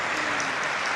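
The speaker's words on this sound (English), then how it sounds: "Can we get a round of applause for that?" Audience applause fills the hall at the 2018 Queens State of the Borough Address, a steady, dense wash of clapping sustained for the full second with no talking over it.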